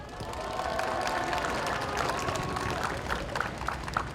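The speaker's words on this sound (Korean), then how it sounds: "큰 박수와 다시 한번 환호 부탁드리겠습니다" A crowd at a candidate's campaign office opening in Yeongju claps and cheers steadily, a dense wash of applause with scattered sharper claps and the murmur of voices running throughout.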